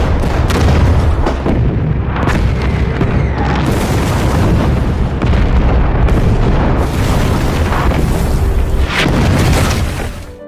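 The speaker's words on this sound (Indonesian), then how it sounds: "artileri pun diluncurkan." German artillery barrage fired on Soviet troops sheltering in trenches, a dense, continuous roar of loud booms and explosions that overlap without a break for about ten seconds.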